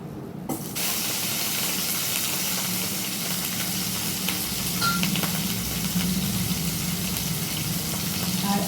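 Panch phoron spices hit hot oil and burst into a loud, steady sizzle that starts abruptly and keeps frying evenly at close range, with occasional faint pops and no talk.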